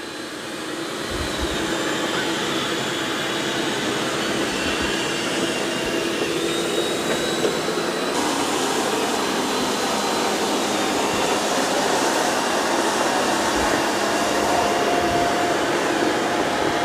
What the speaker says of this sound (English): Now the Eufy's doing a good job on this carpet